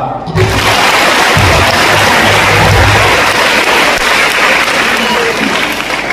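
A church congregation breaks into loud, sustained applause during a Christ the King Sunday service, with dense clapping from many hands that continues steadily throughout.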